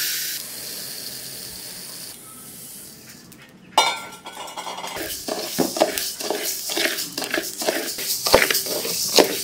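Pearl millet grains dry-roasting in a pan, a dense clatter of small scrapes and clinks building after a quieter start, with repeated rhythmic scraping strokes close by and no talk.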